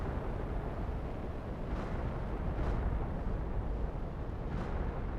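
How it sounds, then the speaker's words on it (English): Meteor rocks falling from the sky in Planet Crafter, heard as a steady rumbling roar with several muffled impact thuds landing at intervals, moderately loud and without talk. "Orbital bombardment inbound."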